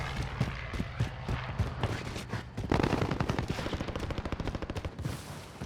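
Rapid automatic gunfire from a Call of Duty match, bursts of close, loud shots that quicken into a dense rattling stream in the second half, with faint speech briefly underneath.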